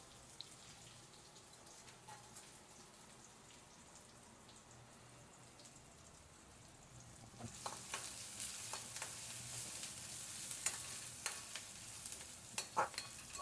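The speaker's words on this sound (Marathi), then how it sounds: "कांद्याला तांबूस रंग येईपर्यंत तेलामध्ये परतून घ्यायचा कांदा" Finely chopped onion fries in oil in a pan, starting as a quiet faint sizzle and then growing into a louder crackling hiss with scattered sharp pops.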